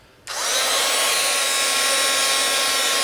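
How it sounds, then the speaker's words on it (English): A heat gun starts abruptly and then blows steadily and loudly for several seconds with a constant broadband roar, aimed at a metal dowel rod that holds a bead coated in liquid clay. "we're going to hit it for a little bit with a heat gun"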